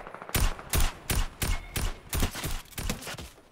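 Gunfire in the video game Fortnite: about eight sharp, loud shots fire in quick, slightly uneven succession, each with a short ringing tail, with no voices over them.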